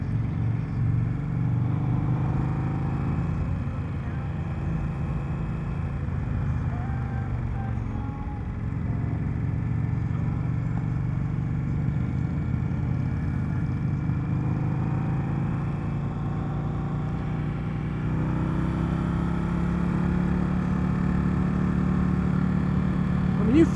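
A 2020 Indian Scout Bobber motorcycle on a demo-day test ride in Fredericksburg, Virginia gives a continuous low engine rumble with wind rush, holding fairly even for the whole stretch.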